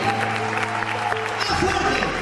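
A theatre audience at the Casa de la Cultura de Quilmes applauds a group of actors in a brief, fairly soft burst of clapping, with steady background music beneath it.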